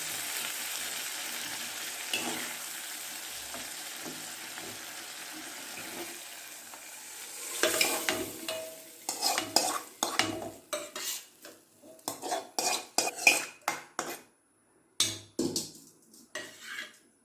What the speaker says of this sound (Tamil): எல்லாம் சேர்த்து மிக்ஸ் பண்ணி